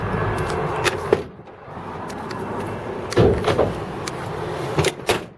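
A 1986 Chevrolet K5 Blazer M1009 military CUCV with a 6.2 liter Detroit diesel has its hood opened, giving a few close metallic clunks and thumps, with a louder latch knock near the end and some handling noise in between.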